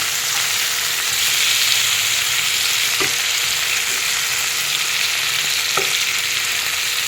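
Fish pieces frying in oil on a low flame, a steady continuous sizzle with a couple of faint clinks from a utensil, close and unbroken, with no talking.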